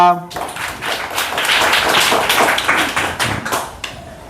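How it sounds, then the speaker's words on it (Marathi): A classroom of children claps together for a fellow student: a dense burst of applause that starts abruptly and carries on steadily for about four seconds before thinning out slightly at the end. "रिद्धीसाठी टाळ्या वाजवा"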